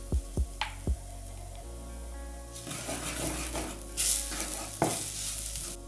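Caramelised onions, garlic and a spice mix frying in a pan, opening with a few sharp knocks of a utensil before a rising, crackling sizzle with stirring scrapes and a brief louder hiss, close up and without speech.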